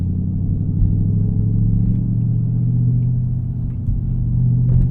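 Chevrolet ZL1 Camaro driving through a Northwest Detroit neighborhood, its V8 producing a loud, close, continuous low rumble from inside the car, steady with slight surges.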